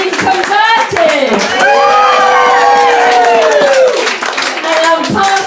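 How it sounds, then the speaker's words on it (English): A stand-up comedy audience cheers and whoops loudly on request, shouts and scattered claps blending into a sustained, close crowd roar that fades and returns in waves. "Give us a cheer if you've been converted."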